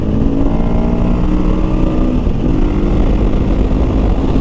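A 2023 KTM 500 EXC-F dirt bike accelerates in a steady, loud engine roar with wind rush, holding a continuous drone throughout without any talk.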